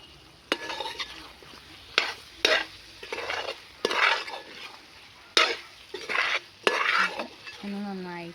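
Chicken curry being stirred in a pan, a spoon scraping and clinking against the metal in repeated separate strokes, with a soft sizzle between them and no talk.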